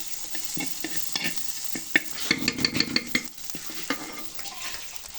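Onion, ginger and garlic sautéing in a pan for Kerala-style fish curry masala, a steady close sizzle broken by repeated scraping stirs and clinks of a spoon against the pan, with no talking.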